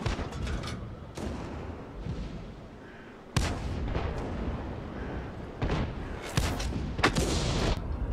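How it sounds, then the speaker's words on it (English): Artillery fire in the tank battle game World of Tanks: deep, loud cannon blasts strike abruptly amid rumbling battle noise, followed by further sharp gun reports and explosions. "These are the guys that are getting hit by artillery."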